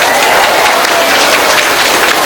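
Steady, dense applause from an audience at an Islamic religious study gathering in Kroya, Cilacap, Central Java, loud and continuous throughout without pause.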